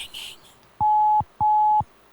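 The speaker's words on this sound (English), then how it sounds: "It's ringing." A phone call's ringback tone sounds twice as steady electronic beeps with a brief gap between them, clear and loud, after people talk briefly.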